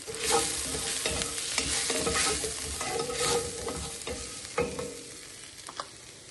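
Continuous sizzling of onions frying in a pan as garam masala is stirred in, with scraping stirring strokes and occasional utensil taps close by.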